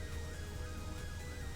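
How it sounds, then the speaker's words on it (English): A wailing emergency vehicle siren from the Oxford Response game, rising and falling in repeated sweeps, loud and steady over low engine rumble. "you press the horn to change the siren"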